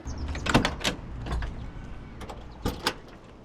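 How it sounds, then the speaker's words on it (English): A 1969 Mustang Mach 1 door is handled with a few soft mechanical clicks and thuds, then a firmer latch sound as it shuts, close by and fairly quiet. "Smooth action on the door."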